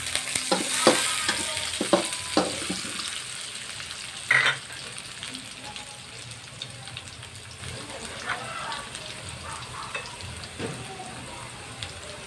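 Garlic sizzles and fries in a hot pan, a steady crackling hiss with occasional scraping stirs and clinks, close and continuous throughout.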